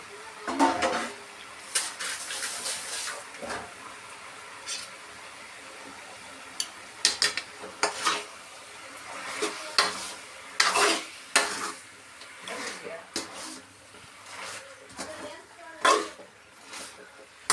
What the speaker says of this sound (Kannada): ಸ್ವಚ್ಛಗೊಳಿಸಿರುವಂತಹ ಚಿಕನ್ ಹಾಕ್ತಾಯಿದ್ದೀನಿ